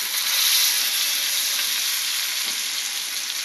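Steak frying in a hot pan, flipped before going into the oven for a date-night dinner, gives a steady loud broadband sizzle that holds evenly throughout, with a faint stir or shift near the end.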